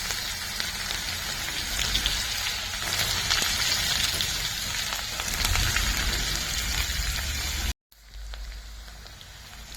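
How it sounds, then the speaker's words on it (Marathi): Onion sautés in a pan with curry leaves, a dense steady crackling sizzle like rain, fairly close, broken by a brief cut of silence near the end before the sizzle resumes. "आता त्यात कांदा घालूया कांदा छान परतून घ्यायचा"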